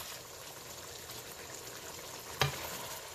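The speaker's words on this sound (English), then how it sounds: "Lower down our heat. And let this simmer for about a minute." Spicy chicken with Thai eggplant simmering in a pan over lowered heat, giving a steady soft sizzle and bubbling with one sharp clink or tap near the end.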